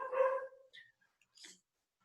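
A small dog gives one short bark, then a couple of faint, brief yips, all fairly quiet and alone.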